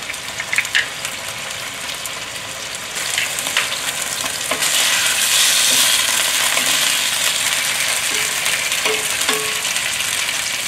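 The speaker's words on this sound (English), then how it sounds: "When the sizzle sound is low, means the chicken is really cold." Chicken stir-frying in a hot frying pan, with a steady sizzle that grows louder and fuller midway, plus scraping and occasional metallic clinks of stirring.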